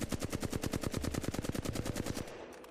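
An assault rifle in Apex Legends fires a rapid sustained burst of about two seconds, loud, evenly spaced shots cutting off sharply into a short tail of silence.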